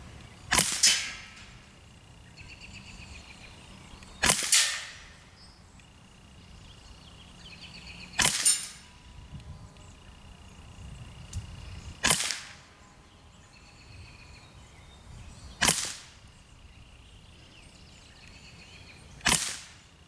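Rifle shots from a compact rifle with a night-vision scope, fired one at a time for a group: six sharp cracks spaced about four seconds apart, with quiet ambient background between them.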